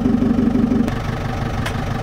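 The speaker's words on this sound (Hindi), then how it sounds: "हमेशा आइडल रेस पे ही इसको चालू रखने का" A JCB engine idles steadily just after a service, a continuous low mechanical drone with an even, rumbling rhythm, fairly close and heard alone without voices.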